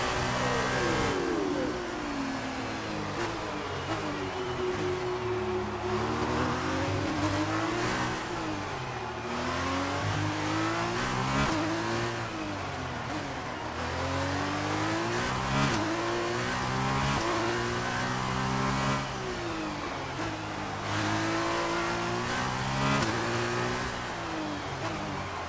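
Race car engines in the Fortnite video game rev steadily for the whole stretch, their pitch climbing and falling in repeated sweeps as the cars accelerate and shift, loud and close with no talking.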